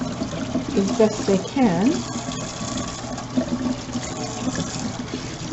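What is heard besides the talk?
running water while scrubbing avocado skins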